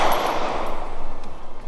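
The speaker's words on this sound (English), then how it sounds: "We will do 6 rounds into the top left circle." Gunshots are fired at a target in quick succession, a loud, rapid series of sharp reports close by with no talking.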